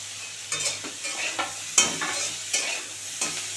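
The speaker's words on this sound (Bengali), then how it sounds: "আলু আর শিম ভালো করে ভাজা হয়ে গেছে, এবারে বেগুনটা দিয়ে দেবো" Potatoes, beans and eggplant frying in a pan, a soft continuous sizzle broken by sharp, irregular scraping strokes as the vegetables are stirred, close and fairly loud with no talking.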